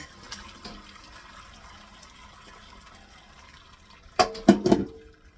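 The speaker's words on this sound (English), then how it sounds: "the bone broth is done, so I'm going to actually pour it in to my, what is it, big pan called" Homemade chicken bone broth pours into a big Dutch oven through a strainer, a quiet room murmur and then a loud gushing, splashing burst of liquid near the end.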